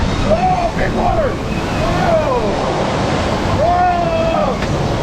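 Water rushing and splashing around a Bilge Rat Barges raft ride at Universal Florida, a loud continuous roar of churning water with wind buffeting the mic and excited riders shouting over it.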